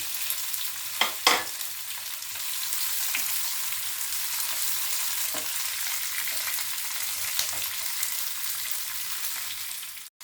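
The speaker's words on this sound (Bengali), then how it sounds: "পেঁয়াজ আর টমেটোগুলো খুব বেশি ভাজতে হবে না।" Onion and tomato fry in a pan for egg do pyaza, a continuous close sizzle with a couple of sharper stirring clatters early on, steady and unaccompanied by speech.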